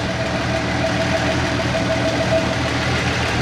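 A 1953 GMC truck engine with water in the oil idling steadily nearby, a low rumbling drone with a faint knocking rhythm, running continuously without voices.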